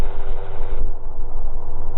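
A gyrocopter engine drones loudly and steadily in flight, its throttle eased back partway through so the higher whine drops away, leaving a lower, continuous pulsing roar.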